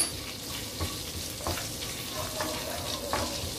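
Whole cloves, green and black cardamom and a small piece of cinnamon fry in hot oil for a paneer dish, giving a steady close sizzle with occasional stirring scrapes and no talk.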